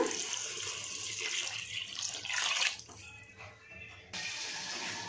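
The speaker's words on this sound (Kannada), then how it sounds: "ಈಗ 1 ಬೌಲು ಶಾವಿಗೆ ತೊಗೊಂಡ್ರೆ 1 ಬೌಲಷ್ಟು ನೀರು ಹಾಕಬೇಕು. ಹಾಕ್ತಾಯಿದ್ದೀನಿ." Water pours steadily into a pan for vermicelli masala bath, a continuous splashing rush that tapers off partway through and then gives way to a quieter flow.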